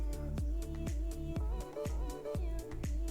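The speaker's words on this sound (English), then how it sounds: "You can hear the TV in the background." A television plays in the background of a home, carrying steady music with regular punchy beats and sustained tones, moderately loud throughout with no voices on top.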